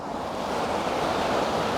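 Ocean surf rolling in at high tide on a shore, a steady, loud, continuous wash of breaking waves with some wind noise on the microphone.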